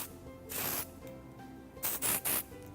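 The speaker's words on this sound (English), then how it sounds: "As I'm spraying in the product," An aerosol of hair product sprays in several short hissing bursts close by, one longer burst early on and a quick pair near the end, with soft handling noise between.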